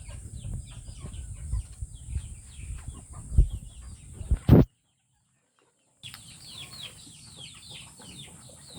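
Several chickens cluck and chatter close by, with a few sharp louder calls, before the sound cuts out briefly and then the clucking resumes.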